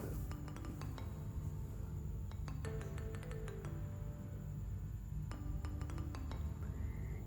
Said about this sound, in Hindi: इसको मैंने अच्छी तरह मिक्स कर लिया है